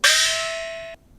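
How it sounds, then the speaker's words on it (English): A small gong from Jingju percussion rings once with a bright metallic strike, its tone gliding upward as it sustains for under a second before being cut off, loud and alone. "is the small gong, which sounds like this."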